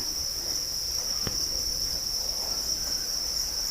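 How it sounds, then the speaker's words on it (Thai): Crickets chirping steadily in a cricket farm pen at evening feeding time, a continuous high, dense insect trill that stays even and close throughout, with no voices. "จิ้งหรีดชอบกินอาหารตอนเย็น เขาหากินกลางคืนนะ"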